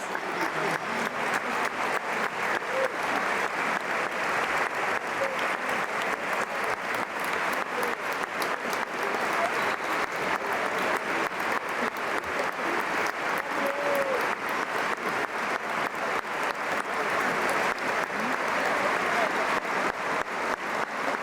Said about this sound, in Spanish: Minuto 21, minuto más importante aquí en el campo del Español, de Dani Jarque. Aplaudimos y observamos.